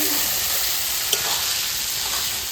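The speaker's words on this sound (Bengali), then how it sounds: "আমার খাসির চর্বি ভাজা হয়ে গেছে" Pieces of goat fat fry in oil, giving a close, constant sizzling hiss with fine crackles and one brief sharp tap partway through, no one talking.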